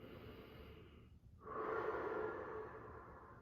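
A deep breath taken during a floor core workout, with a soft inhale followed by a louder, longer exhale up close, and no talking.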